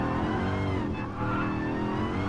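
Race car on a hot lap in Gran Turismo Sport, a continuous loud engine roar at high revs with layered harmonic tones and a brief dip as it shifts, heard alone without talk.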